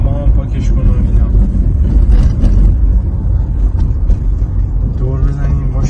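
Cars driving and spinning donuts on a city street at night, giving a loud, steady engine rumble and road roar that swells slightly near the middle, with voices faintly audible beneath.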